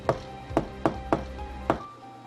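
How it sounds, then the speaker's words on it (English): Knocking on a table in a reputedly haunted old house, five sharp hollow knocks in an uneven rhythm, fairly close and distinct against a quiet room, with no speech. "It knocked twice back."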